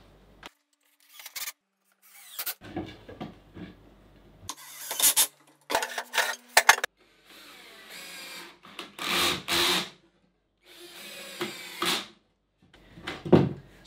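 Wooden frame pieces butt jointed with 2.5-inch screws, heard as bursts of a cordless drill driving screws between quiet gaps, with rubbing and knocks of wood handled close by.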